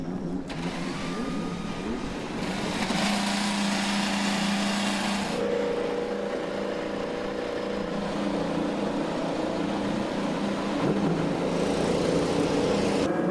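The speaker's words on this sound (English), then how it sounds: "Drivers, start your engines." IndyCar race car engines fire up at Road America in 2019, a dense, loud roar of many engines droning and revving together, with a broadcast voice faintly underneath.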